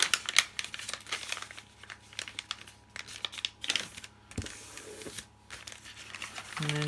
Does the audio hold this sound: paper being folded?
yes